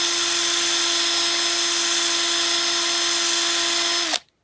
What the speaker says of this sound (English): I'm a bit apprehensive about drilling too far